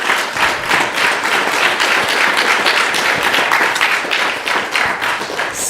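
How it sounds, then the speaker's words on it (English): A large audience at an ISKCON Phoenix chanting gathering claps loudly and continuously for several seconds, a dense, even roar of applause throughout. "a very, very big round of applause"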